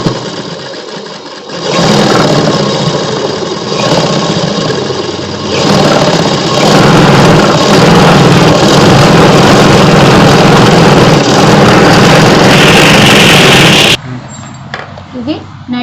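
A sewing machine runs loud and close, double stitching the collar of a night suit in a long continuous whir broken by brief pauses. It stops abruptly near the end, leaving quieter handling sounds.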